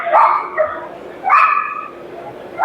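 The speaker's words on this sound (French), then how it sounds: "il y a un combat de chien" Dogs scuffling and barking at a Swiss classic car show, with sharp bursts of barking and yelping in three separate bouts, near and loud, set against the hall's steady background murmur.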